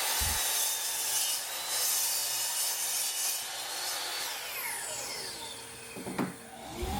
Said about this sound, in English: so I'm cutting it down on my miter saw.